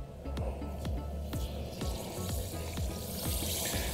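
Breaded fish dropped into hot oil at about 375 degrees, sizzling steadily with a run of sharp crackling pops close by, no voices.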